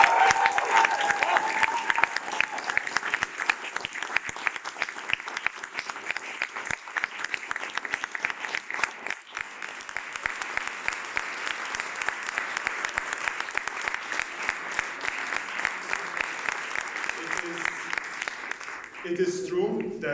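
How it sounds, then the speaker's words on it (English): Applause from an audience at a student union board meeting rolls on steadily for about twenty seconds, a dense, sustained wash of many hands clapping in a large room before it tapers off and a few voices come in at the end. "I want to give you a huge applause for the work that they have done during this year."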